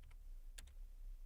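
Computer keyboard keys tapped while typing a Linux command in a terminal, a few quiet, sharp clicks: a couple near the start and a brief cluster around the middle, otherwise near silence.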